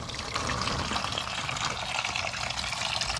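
Coolant drains out of a Yamaha VMAX motorcycle in a steady, close splashing gush of liquid that runs continuously without pause.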